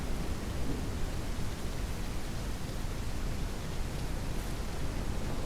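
Steady, dense rain in the Ranch Simulator video game, a constant even hiss with low rumble that holds unchanged throughout, with no voices.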